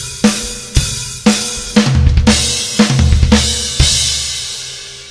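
A rock drum kit plays a fill of 16th-note triplets moving across snare, toms and kick drums, finished by a crash cymbal, with accented hits ringing out at a moderate tempo; loud and close, with no talking.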